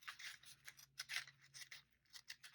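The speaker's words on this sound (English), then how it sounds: "I'm going to take my scissors" Scissors snip through a paper sticker box in a series of quick, soft cuts, close and quiet, with faint crisp rustling between strokes.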